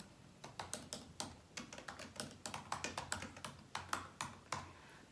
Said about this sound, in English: we're going to go into the text box over here and type something